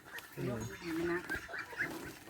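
Newly acquired farm ducks honk and quack in a loose run of loud, nasal calls, close by, over a bit of background noise.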